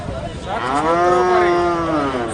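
A cow moos one long, drawn-out low call at a cattle market in Natore, Singra, close and loud against a busy background murmur.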